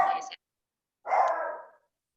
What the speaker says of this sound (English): Somebody's puppy is barking.